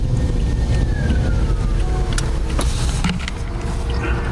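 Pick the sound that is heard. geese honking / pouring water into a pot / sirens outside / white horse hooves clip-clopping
sirens outside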